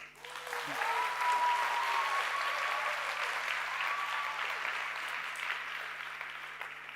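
An audience at a product presentation claps loudly and steadily for several seconds, a dense sustained round of applause that slowly tapers off.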